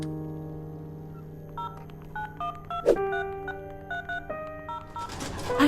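Touch-tone telephone dialing in the Memoranda video game: a string of short DTMF beeps in an uneven rhythm over a steady low drone, with a sharp click partway through.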